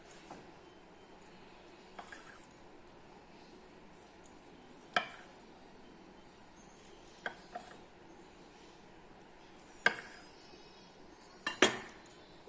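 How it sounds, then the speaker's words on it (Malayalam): A knife cuts a steamed veg roll into large pieces, giving a few faint, separate taps and clinks on a board, spaced seconds apart in a quiet kitchen. "പൊതിഞ്ഞിട്ട് ഇത് കട്ട് ചെയ്യണം ഇങ്ങനെ കുറച്ച് വലിയ പീസായിട്ട്."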